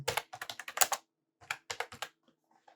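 Keys tapped on a computer keyboard while a name is entered into a web form field, a quick burst of close, crisp keystrokes, a brief pause, then a second shorter run fading to a few soft taps.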